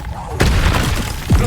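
A Confringo fire explosion spell erupts in Hogwarts Legacy, a sudden close boom that bursts in loudly after a short lead-in and sustains briefly, with voices and spell effects around it.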